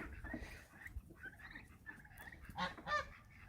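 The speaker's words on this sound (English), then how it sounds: "But the little turkeys seem to be doing great." Young turkey poults, about three to four weeks old, give soft, intermittent honking calls and chirps at moderate distance, a few brief calls rising near the end of the short stretch.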